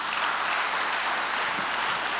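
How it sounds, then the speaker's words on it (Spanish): A church congregation applauds in a dense, steady wash of many hands clapping at once, holding an even level from start to finish with no talking. "Dale un aplauso a Dios."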